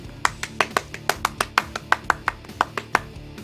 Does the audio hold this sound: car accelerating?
no